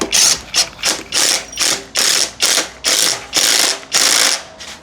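A ratchet wrench tightens parts on a cheap 50cc moped in repeated bursts, about a dozen rapid clicking strokes in a steady rhythm, close and loud.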